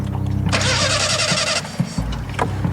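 A car engine cranks with a rapid, grinding whir for about a second, then sputters and dies without catching, followed by a few soft clunks.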